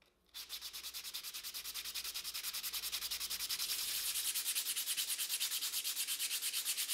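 A walnut candle holder being hand-sanded with 320 grit sandpaper: steady, rapid back-and-forth rubbing strokes in an even rhythm, close and clear with no talking.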